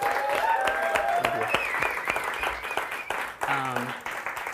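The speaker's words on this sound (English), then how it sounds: "Can we have another round of applause for him, please?" Audience applause at a small spoken-word and music gathering, a dense sustained patter of clapping that carries through most of the stretch while a nearby voice talks over it, thinning briefly near the end.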